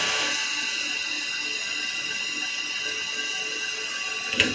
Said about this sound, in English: So I'm going to start machining on the part.